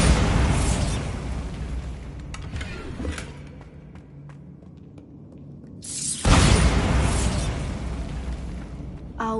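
A Bombarda blasting spell detonates in a Harry Potter video game: a big booming explosion that rumbles and fades into scattered debris clatter, then a second heavy blast roars in near the end.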